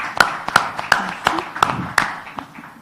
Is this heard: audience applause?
yes